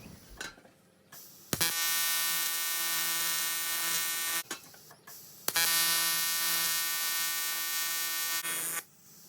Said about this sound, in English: I use a backstep motion here purely to fill the weld joint and join the two parts without having to use filler wire.